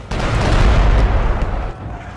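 Cannon fire in the samurai stealth game Shadow Tactics: Blades of the Shogun, a single heavy, booming blast with a rumbling low-end tail that fades over about two seconds.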